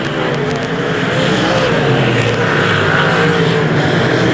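Race cars running side by side for fifth place on an oval track at the John Kuntz Memorial, a dense, continuous engine roar holding steady and loud throughout, with faint crowd or commentary undertones.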